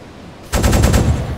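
Deck cannon fire in a modded U-boat submarine video game: after a short quiet moment, a loud rapid volley of about five booming shots rings out and decays, with no talking.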